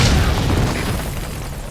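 Explosion in Metal Gear Solid V, a loud, deep boom already rolling at the start and fading into a long, dense rumble with no voices over it.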